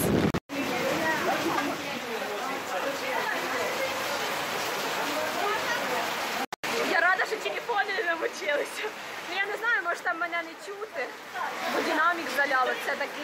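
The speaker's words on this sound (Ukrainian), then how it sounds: "Там не йде дощ, а ми йдемо в дощ." Steady rain hisses throughout at a beach by the sea while several people talk and laugh over it, close by.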